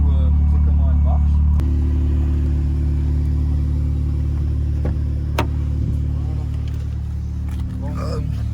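Volkswagen Golf 7R engine under launch control, a steady loud low drone that swells briefly near the start and holds through, with a few sharp transient clicks over it and a voice speaking faintly beneath.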